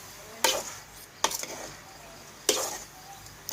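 Ingredients dry-roasted in a pan over a charcoal stove, three sharp scraping stirs with a spatula spaced a second or two apart, close and moderately loud over a low background hiss.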